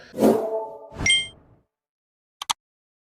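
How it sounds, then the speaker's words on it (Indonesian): A bright notification bell rings once with a clear metallic ding, preceded by a soft whoosh, then falls silent before two quick faint clicks near the end. "jangan lupa bunyikan loncengnya untuk mendapatkan notifikasi info-info terbaru"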